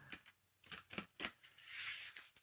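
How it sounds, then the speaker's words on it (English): Quick riffling bursts of cards being shuffled, several crisp flurries in a row followed by a longer, softer rustle, close and fairly quiet. "I'm going to shuffle the cards"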